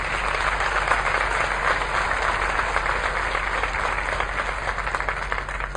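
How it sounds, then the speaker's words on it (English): Audience at an 8th grade graduation ceremony giving a round of applause, steady, even clapping from a large crowd that holds throughout with a faint hum underneath. "Let's please give them another round of applause."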